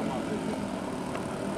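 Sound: B-25 twin-engine bomber aircraft engines

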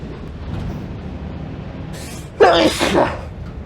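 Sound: person sneezing

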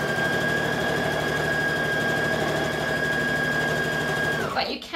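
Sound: sewing machine stitching fabric

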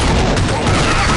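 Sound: gunfire in video game Counter-Strike zombie mode

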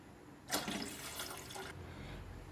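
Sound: water being poured into a pot for cooking rice

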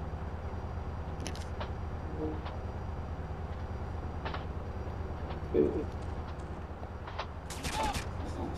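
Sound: gunfire in video game Grand Theft Auto San Andreas

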